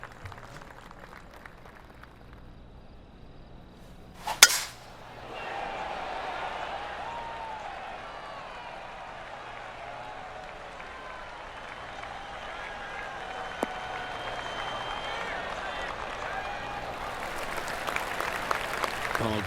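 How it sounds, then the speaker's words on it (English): A sharp knock of a golf shot rings out at a professional golf tournament, then the crowd breaks into sustained, polite applause that grows gradually louder and continues for many seconds. "Oh, golf clap. That's a beauty."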